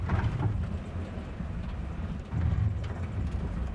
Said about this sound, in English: you can add how much rattle you want from the chassis